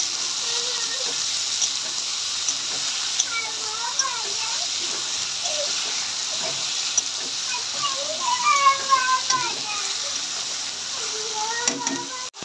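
Goat offal (pota kaleji) fries in hot oil, a steady sizzle running through the whole stretch with brief stirring sounds, while someone talks over it.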